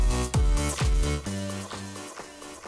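Club dance music during a DJ mix transition, with kick-driven beats and an echo effect on one deck tailing off into the next track, loud and continuous with no talking.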